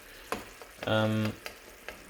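Wine reducing in a pan for a gorgonzola pasta sauce gives a close, steady frying sizzle with a few short clicks and stirring touches. Midway, a brief tonal hum rises over it.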